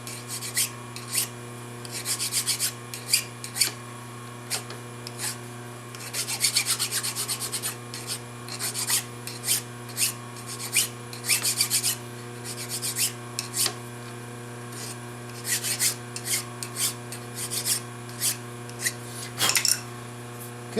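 Hand file rasping burrs off the edges of freshly squared metal stock in a workshop, a series of short scraping strokes in irregular bursts over a steady machine hum, no talking.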